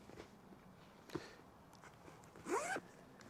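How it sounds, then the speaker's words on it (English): A zipper runs along the small back pocket of an Ulanzi shoulder bag, one quick, fairly quiet zip near the end, preceded by faint handling rustles. "which zips up perfectly."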